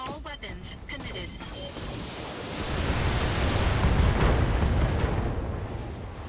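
Mech weapons fire and explosions in the Battletech video game swell into a heavy, sustained roar of blasts and rumble after a brief voice at the start.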